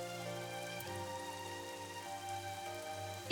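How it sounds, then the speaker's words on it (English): Steady, soft rain falls in the video game AI: The Somnium Files, a continuous even hiss under a sustained musical drone, with no talking and a brief sharp tap at the very end. "Oh, it's raining."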